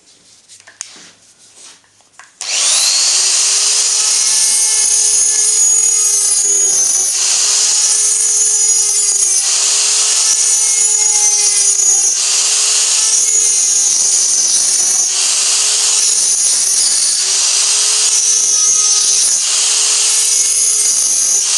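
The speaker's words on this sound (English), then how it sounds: "I think I should just have to persist with the carbide burr and the die grinder." Die grinder with a carbide burr grinding a cast iron exhaust manifold, a loud high-pitched sustained whine that starts abruptly and pulses slightly as the burr bites, heard up close with no talking.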